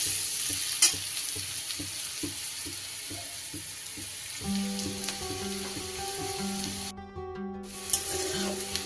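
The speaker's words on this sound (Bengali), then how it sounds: "সব সবজিগুলোই কিন্তু আমার বেশ ভালো করে ভাজা হয়ে গেছে" Mixed vegetables sizzling in oil in a wok, a steady crackling fry with scraping stirs early on, then a tonal hum joining the sizzle.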